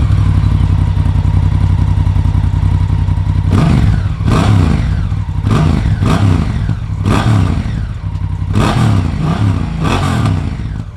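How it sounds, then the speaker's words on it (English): A Honda Africa Twin Adventure Sports DCT motorcycle with stock exhaust idles steadily, then revs hard in several sharp bursts, loud and close, with the throttle blipped repeatedly. "let's start it up and hear the amazing sound coming from the stock Africa Twin"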